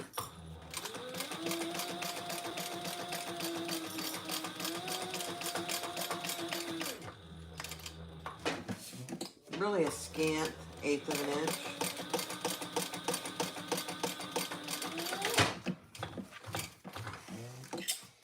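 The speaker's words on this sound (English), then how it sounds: "now we're just going to sew the bottom and this raw edge" A sewing machine stitches the bottom raw edge of a trifold wallet in steady, whirring runs with a short pause midway, close and loud, while someone talks over it.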